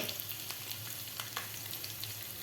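A tadka of mustard seeds, cumin, green chilli and asafoetida sizzles in hot oil with a soft, continuous crackle and occasional light pops, heard up close.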